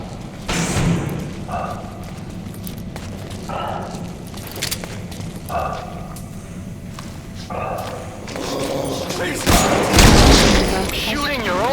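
Gunfire and thudding impacts in the stealth action game Metal Gear Solid V: The Phantom Pain, with a few separated shots and booms over game ambience, a heavier burst near the end, and voices talking in between.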